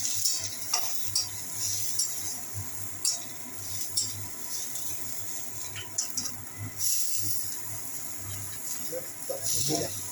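Onions fry in a pan with a steady close sizzle while a spoon scrapes and stirs, as tomato goes in for a raw-banana kofta curry; soft scraping bursts recur over the hiss.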